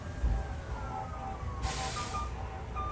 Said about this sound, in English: I hear a bunch of sirens.